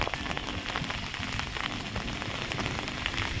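Steady, dense rain patters on surfaces outdoors during a small picnic outing, a close, continuous hiss without any talking.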